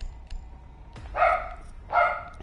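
A dog gives two distinct loud barks about a second apart, close to the microphone, with a quiet background and no talking.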